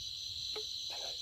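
Rice field crickets chirp at night in a steady, dense, high trill that runs continuously throughout, fairly faint, with a couple of soft brief knocks nearby.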